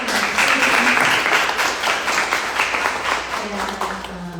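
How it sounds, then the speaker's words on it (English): A round of applause for an art team at an artist talk, steady clapping from a small audience that fills the whole moment at close range, with a few voices murmuring underneath. "I want to give a round of applause to them because they're all part of the team"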